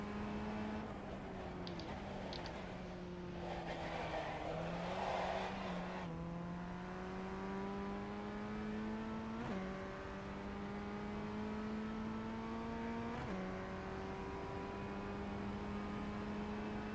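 A race car engine in the iRacing sim climbs and shifts through gears along the tightening left at La Cuvette, with a steady droning pitch that rises, then drops at each upshift. It stays continuous and moderately loud.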